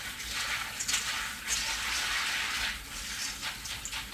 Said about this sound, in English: we'll begin by giving our beans a really good wash